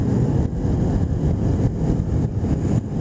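A 2006 Kawasaki Ninja 250 motorcycle ridden at night gives a steady, loud low engine drone with wind noise, continuous throughout and free of speech.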